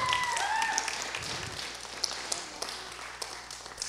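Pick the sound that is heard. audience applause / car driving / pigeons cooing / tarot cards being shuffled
audience applause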